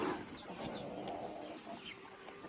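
Chickens cluck and call at a Nepali family farm as they gather to eat feed, a steady, fairly close mix of short clucks and bird calls with no talking.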